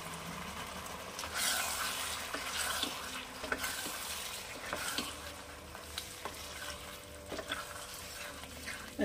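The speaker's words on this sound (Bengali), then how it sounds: "সেটাকে মশলাটাকে কষিয়ে নিয়ে আমি আবার ফিরে আসছি একটু পরে।" Masala for aloo dum, with roasted spice powder added over low heat, is stir-fried in a pan, giving a soft continuous sizzle broken by regular scraping and tapping of a spatula.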